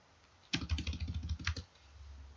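A quick burst of typing on a computer keyboard while writing website code, about a second of close, rapid key clacks, with quiet before and after and no speech.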